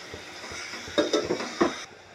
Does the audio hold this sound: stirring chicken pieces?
yes